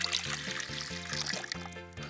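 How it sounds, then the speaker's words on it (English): Lemon juice for a lemonade stand is poured into a giant pitcher, giving a continuous hissing trickle under a steady, pulsing backing music track. "pour this in our giant pitcher"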